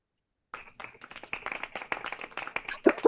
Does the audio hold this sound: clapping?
yes